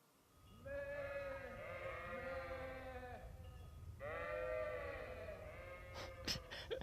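Sheep in the video game Kingdom Come bleat in two long, wavering calls close by, with a short rustle and a few clicks near the end and no talk.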